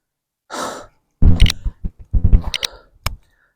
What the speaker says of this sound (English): There's going to be a lot of breathing, a lot of panting